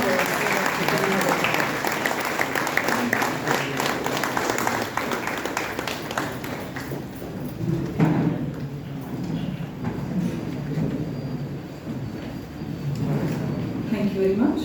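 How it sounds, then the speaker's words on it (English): An audience at the Manthana 100 event in Dasarahalli gives a big, sustained round of applause while offering flowers to Bharat Mata, with steady dense clapping that swells and dips over about fifteen seconds. "I request you all to join by giving a big round of applause while offering the flowers to Bharat Mata."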